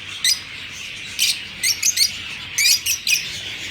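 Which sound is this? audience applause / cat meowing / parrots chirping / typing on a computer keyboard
parrots chirping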